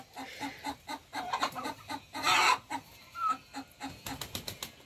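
A hen clucks in a chicken coop in a steady run of short, repeated bursts, fairly close, with a louder flurry partway through.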